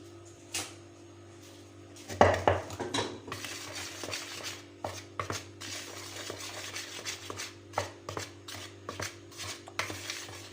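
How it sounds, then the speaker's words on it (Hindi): Milk powder is sifted into cake batter and mixed in a bowl, producing soft intermittent clinks and scrapes of a utensil against the dish, with one louder clatter early on, all fairly quiet and unhurried. "अच्छी तरह मैं छान लूँगी, इसको छान के मिक्स कर लेती हूँ।"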